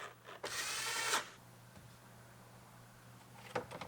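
A power drill drives screws into interior trim while a totaled Acura RDX is rebuilt, one close, loud whirring burst of under a second, followed by quiet handling clicks.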